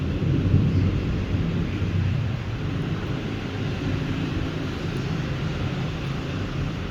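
Thunder from a Miami thunderstorm rolls as a steady, deep rumble that stays fairly loud and unbroken throughout, with no talking.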